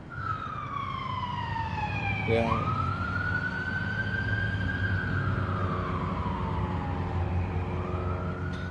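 A wailing emergency-vehicle siren sweeps up and down in long glides, fairly loud and steady over low traffic rumble, while a voice speaks briefly.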